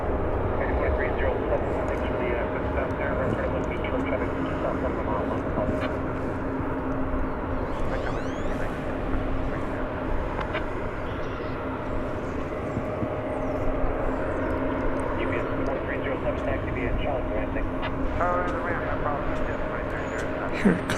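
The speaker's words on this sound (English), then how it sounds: "this plane better get off the runway pretty quickly" Airliner rolling on the runway at DFW Airport, a steady broad engine roar sustained throughout with low rumble, moderately loud and continuous, while a person talks over it.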